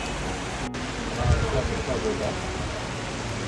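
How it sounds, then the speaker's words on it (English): Steady rain in Morocco hisses continuously close by, a dense wash of falling water with a brief knock partway through. "Ooh, our first rainy day in Africa."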